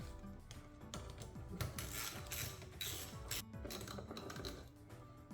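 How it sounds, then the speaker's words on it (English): Tightening a hose clamp on the air filter box of a 2021-2024 Hyundai Elantra 2.0L gives steady close mechanical clicking and ratcheting, like a ratchet driver turning, continuous throughout with no voices. "tighten down this hose clamp"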